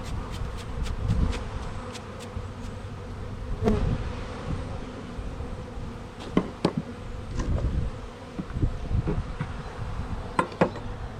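Dense buzzing of many honeybees swarming close around a hive in the evening, with individual bees zipping past the microphone now and then.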